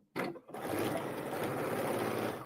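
A sewing machine stitches a half inch seam, a brief hard start followed by a steady, loud, continuous motor whir that runs to the end.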